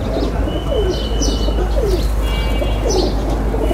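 Pigeons cooing in a loft, several soft repeated coos over a low steady hum, with faint chirps and a brief flutter of wings.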